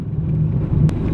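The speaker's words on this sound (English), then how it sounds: "Riding in my BMW" An E36 BMW drives along, its steady low engine and road rumble continuous and fairly loud from inside the cabin, with wind buffeting and a brief sharp noise near the end.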